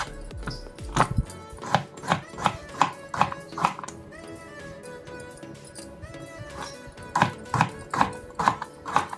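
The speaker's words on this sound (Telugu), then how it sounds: "నేను ఇవి ముక్కలుగా కట్ చేస్తాను." Vegetables, including beetroot and turmeric root, cut into small pieces on a board: a steady run of sharp knife chops at close range, with a short pause in the middle.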